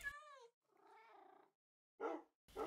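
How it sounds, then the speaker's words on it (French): A cat in the Minecraft video game gives a few separate meows: a clear rising call, a longer wavering one, then two short, sharper cries after gaps of silence, with no one talking. "le chat miaule. En français, il fait miaou."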